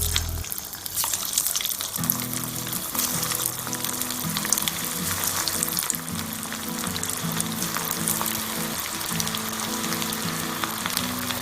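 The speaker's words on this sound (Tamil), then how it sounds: "மிதமான தீயில போட்டு பொறுமையா பொரிக்கணும்." Oil sizzles and crackles steadily as banana flower vadas deep-fry over medium heat, with soft background music playing underneath throughout.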